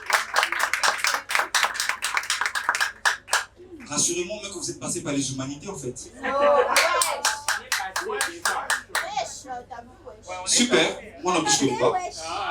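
A hall audience at a French comedy show claps in a quick burst of sharp, close handclaps at the start, then someone talks on stage with occasional laughter and a few more scattered claps.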